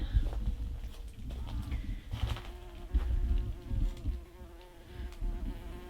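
A bee buzzes steadily inside a garden polytunnel, a close, continuous drone that holds throughout with faint background rustle and no talk.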